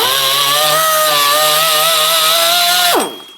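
A grinder shaping a metal alternator bracket whines at a steady high pitch for about three seconds, then spins down as it is switched off, loud and close with no talk.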